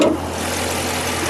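A 2015 Dodge Challenger SRT-8 with the 392 Hemi 6.4-liter V8 idling, a steady deep rumble heard close and loud throughout, with no talking.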